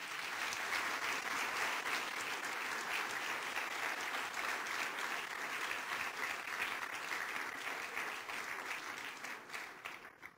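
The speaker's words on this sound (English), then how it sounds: "A big round of applause for everyone in this room." An audience in a plenary hall gives sustained, even applause for about ten seconds, dense and steady before tapering off at the very end.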